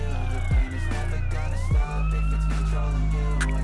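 A police car siren wails in the MTA San Andreas video game, a loud rising and falling electronic tone sweeping close by, with engine rumble underneath and no talk.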